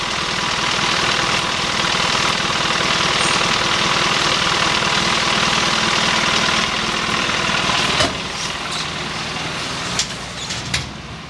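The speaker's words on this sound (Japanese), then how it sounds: "エンジンかけてバックしちゃっていいよ。" A trike's engine idles loud and close in a steady, throbbing rumble with a slight knocking vibration, broken near the end by a few dull clunks as the level dips.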